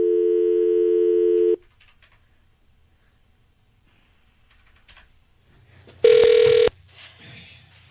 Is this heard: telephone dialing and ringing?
yes